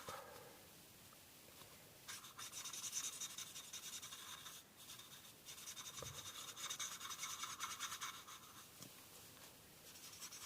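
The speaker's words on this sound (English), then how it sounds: "you can probably hear that scratching on the paper" Marker pens scratching and rubbing across paper while laying down base colour for a sketched design, a steady dry scratchy texture running throughout with brief pauses, close and fairly quiet.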